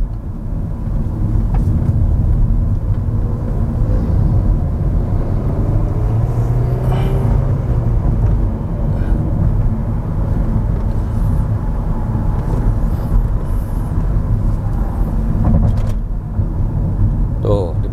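Interior of a Hyundai Stargazer X driving on the road and cornering fairly quickly: a steady low engine and road rumble with wind noise continues throughout, under someone talking.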